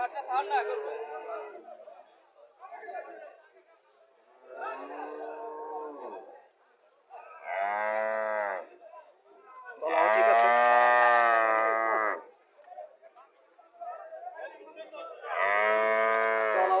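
A dairy cow that gives 22 litres of milk a day moos loudly several times, long drawn-out lowing calls close by, alongside people chatting in the background.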